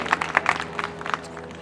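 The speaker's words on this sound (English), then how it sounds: "let's give a round of applause for Kofi" Audience clapping for an entertainer during intermission at an outdoor youth football game, a short burst of scattered, fairly light applause over steady background hum.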